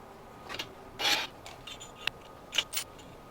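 Metal wrenches are slotted one at a time into a wall-mounted holder on a modular workshop tool wall, making scattered light clinks, scrapes and rubs up close in a quiet room.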